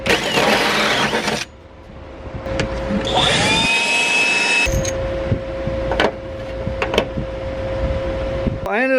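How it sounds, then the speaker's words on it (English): A power drill bores holes through the floor of a Chevy Blazer, a whining high-pitched burst in the middle with tonal hums and scattered clanks before and after, loud and close. "I've also got to drill some holes to pass our cables through underneath the body."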